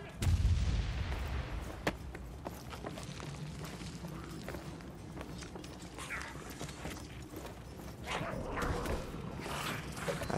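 A bomb goes off in Vermintide, a loud low-heavy blast right at the start that decays into a rumbling game soundscape scattered with clanks and mechanical clatter.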